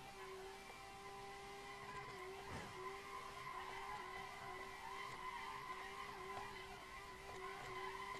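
Sustained tire squeal from a Tofaş drifting in third gear on a mountain road in Assetto Corsa, a steady whine over engine drone that runs continuously throughout, fairly faint.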